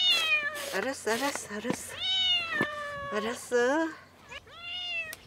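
Several cats meow repeatedly in rising, drawn-out calls, loud and close, on an island where a cook feeds a growing group of them; a person speaks briefly among the cries.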